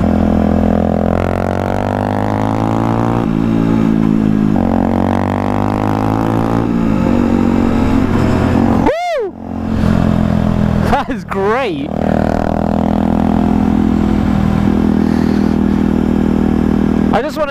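A Benelli TNT 125 or Aprilia Tuono 125 motorcycle engine at 125cc, loud and close, idling then revving sharply in quick throttle blips that rise and fall, with a couple of fast stabs near the middle.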